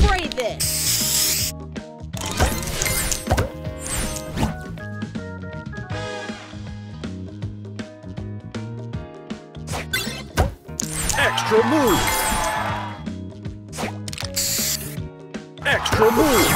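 Spray booster effect in the mobile match-puzzle game Match Masters, with bursts of hissing spray and whooshes mixed with ratcheting clicks, chimes and tile crashes over a busy game soundtrack.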